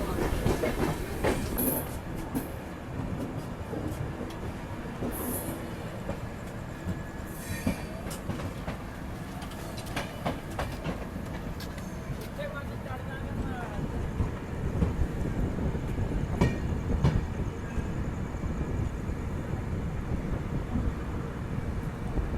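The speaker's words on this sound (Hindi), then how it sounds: "लुधियाना जंक्शन पर अराइवल हुआ है अपनी ट्रेन का" Uttar Sampark Kranti Express arriving at Ludhiana Junction, a steady rumble of rolling carriages with wheel clatter and occasional squeals, moderately loud throughout with faint background voices.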